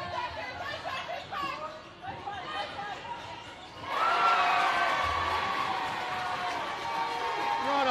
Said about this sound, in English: Decent sized crowd who have come to watch this game.